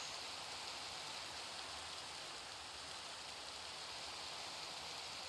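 Steady rain falls continuously, a soft, even hiss of drops on surfaces with no breaks and no talk, faint and diffuse as if heard from indoors.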